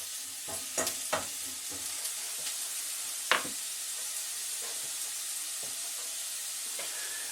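Chicken noodles stir-fried in a pan sizzle with a steady hiss, broken by occasional clinks and scrapes of the utensil near the start and middle.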